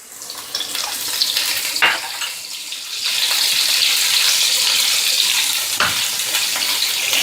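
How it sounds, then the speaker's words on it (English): Garlic and green chilies sauté in a pan with a loud, close, steady sizzle that rises after a brief scrape and a couple of stirring knocks; nobody speaks. "So we'll start by sauteing our garlic. Once our garlic is sauteed a little, we'll add in our green chilies."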